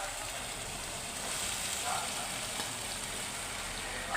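Masala fries steadily in hot oil for a potato curry, a close, even sizzle and hiss with slight crackling, continuous and without talking.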